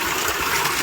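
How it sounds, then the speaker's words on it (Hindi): Water gushing straight out of a spring outlet in a hill setting, a steady close rushing splash with broad noisy texture and no pauses. "यहाँ तो और भी ज़्यादा है क्योंकि पानी सीधा बाहर निकल रहा है ना यहाँ से"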